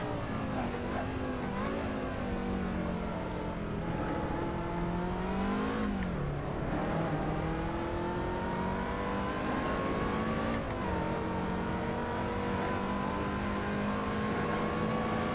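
A Caterham 2-Eleven's engine in the Assetto Corsa racing game at Silverstone International, loud and steady. The revs rise and fall through continuous gear changes, with a sharp dip mid-run before it climbs again.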